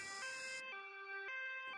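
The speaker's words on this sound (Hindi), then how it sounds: "कालू आगे आगे उड़ रहा था और एम्बुलेंस पीछे पीछे आ रही थी" A cartoon ambulance siren wails in stepped, alternating two-tone pitches, bright and electronic, heard alone and fairly clear.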